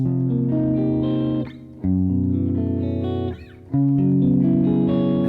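A guitar barre chord, all six strings fretted under one finger, is strummed and left to ring, sounded three times with brief gaps between, each strum loud, full and sustained, with no talk.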